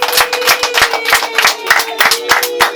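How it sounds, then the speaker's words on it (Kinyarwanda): Guests at a family celebration welcoming a bride clap together in a close, rhythmic pattern of crisp, regular hand claps. The clapping repeats steadily throughout, with a faint voice or tone running beneath it. "Amashyi menshi"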